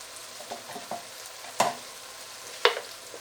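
Turmeric, coriander powder and salt frying in a pan for turnip chicken, a soft sizzle under a few stirring scrapes and two sharp spoon clacks against the pan.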